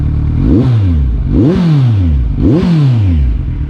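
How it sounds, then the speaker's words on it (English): A 2019 Kawasaki Ninja 1000 superbike engine revs hard three times in a row, each rising and falling roar loud and close, with a rough exhaust note. "just hear to the sound of the beautiful sound of the exhaust"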